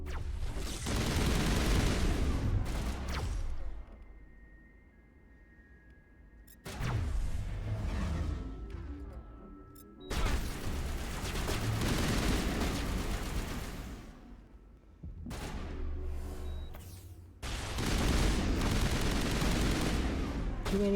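Long bursts of sniper and automatic gunfire from Cerberus enemies in the Mass Effect video game, loud and dense, broken by brief quieter gaps and whooshes, with faint talk in between.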